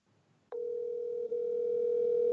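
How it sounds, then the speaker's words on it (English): A phone's call tone sounds while a call is being placed during a late-night talk show: a single steady electronic tone switches on abruptly and holds continuously with one tiny dip, clear and alone with no voices. "Jerry Blevins, let's see if he picks up the phone call"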